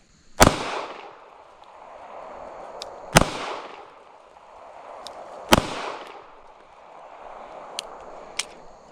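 Three sharp, loud pistol shots from a Smith & Wesson Bodyguard 2.0, fired slowly about two and a half seconds apart, each with a short echoing decay and faint clicks between them.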